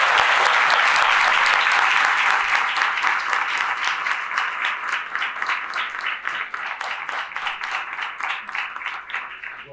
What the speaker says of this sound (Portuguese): Peço uma salva de palmas para recebermos o professor Wilson Gomes.